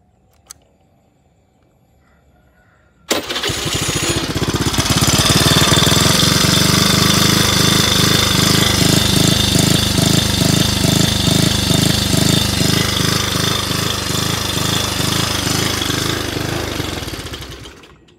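A Honda Beat 115cc motorcycle, converted from carburetor to fuel injection, starts abruptly after a near-silent lead-in, then runs loud and close with a steady pulsing engine note for about fourteen seconds before fading as it shuts off.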